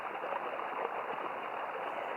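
Pumped water pouring steadily into a farm field, a continuous broadband rush and gurgle held at an even level without pauses or voices.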